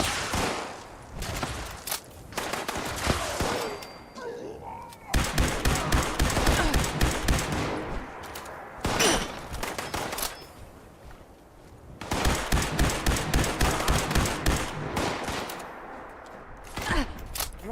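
Rapid gunfire bursts from a shooter video game, loud and dense, coming in repeated volleys with short gaps between, under a faint voice.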